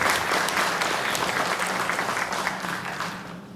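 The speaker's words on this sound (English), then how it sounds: "Let's give him a big round of applause for those refreshments and letting us in." Steady loud applause from a crowd, sustained clapping that slowly tapers off toward the end.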